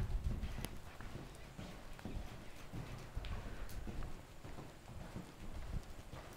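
A horse's hooves clip-clop in a steady loping rhythm on an obstacle course, moderately near, with some low rumble and patter in the background.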